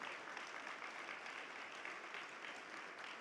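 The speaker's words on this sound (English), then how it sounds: "Give yourselves the round of applause." Faint, even applause from a hall of fame event audience carries on steadily and at a distance, with no talk over it.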